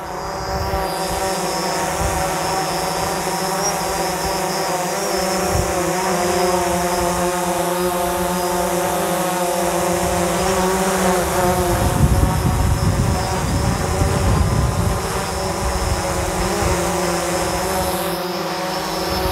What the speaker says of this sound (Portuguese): Ó o vento muito forte agora, ó.